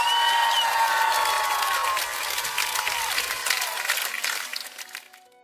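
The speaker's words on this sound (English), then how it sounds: "Let's hear a round of applause." An audience bursts into applause to welcome a guest doctor, a full wash of many hands clapping with some crowd noise, holding steady and then tapering off over about five seconds.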